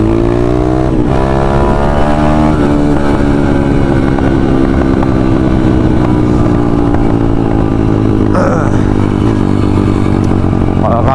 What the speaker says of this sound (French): moi la moto elle fait plutôt pas mal de bruit